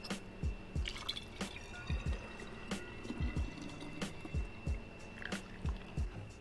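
Lime cordial poured through a funnel into two 250 ml bottles, heard as a series of close, soft drips and splashy trickles in an irregular rhythm, with no talking.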